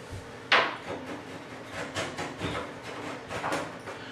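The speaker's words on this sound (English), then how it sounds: "Using a handy dandy paint scraper tool," A paint scraper scrapes old caulk off a bathtub: one sharp, bright scrape near the start, then a run of softer rasping strokes that come close up and repeat unevenly, with no talking.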